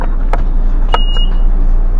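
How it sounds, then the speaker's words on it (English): An electronic fare box on PATransit bus 4004 gives a single clear, steady beep inside the vehicle, with a few sharp clicks and knocks around it over a low, constant engine hum. "don't mind the beeping, that's the fare box."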